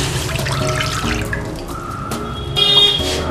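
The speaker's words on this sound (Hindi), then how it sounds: "स्टैंड से नीचे हम इसमें पानी ऐड करेंगे।" Water is poured from a vessel into a kadai on a gas stove beneath a steaming stand while making khaman dhokla, a splashing, trickling pour with clinks of metal.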